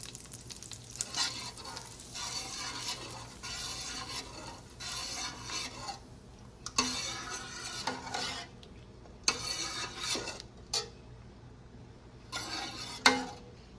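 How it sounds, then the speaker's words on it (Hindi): A spoon stirs a hot tadka through a three-lentil dal in a pot, giving repeated bursts of soft scraping and sizzling with short pauses in between, fairly quiet and close. "इसे मिक्स कर देंगे और ऊपर से हरा धनिया काट के डाल देंगे।"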